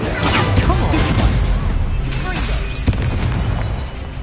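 Spell casting in Hogwarts Legacy, a dense run of whooshing bursts, booms and sharp impacts layered over continuous game noise, loud throughout, with a player shouting spell names over the effects.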